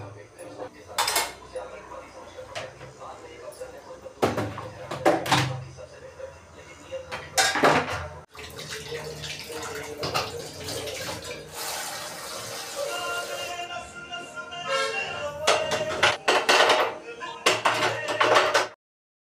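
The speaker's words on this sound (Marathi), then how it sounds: "तर ते भांडे मांडणीला लावून घेते" Washed utensils are set on a kitchen dish rack in a string of sharp metallic clinks and clatters, loud and close. The clattering keeps coming with short pauses between pieces, and a bit of running water and some movement noise sit underneath.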